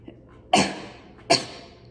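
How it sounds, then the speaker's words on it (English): Two sharp, forceful coughs about a second apart during a lung exercise, close and loud against a quiet background. "It's a very forceful cough."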